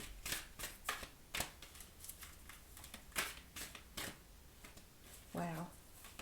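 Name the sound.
shuffling oracle cards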